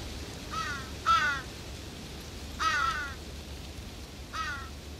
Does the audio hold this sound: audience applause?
no